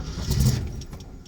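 A 1968 AMC Javelin with a 343 engine cranks briefly: a short, close, low mechanical churn that swells and then fades within about a second.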